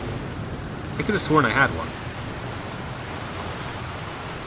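Steady hiss of rain falling throughout a scene in the survival video game The Flame in the Flood, continuous and even, with a person speaking briefly over it.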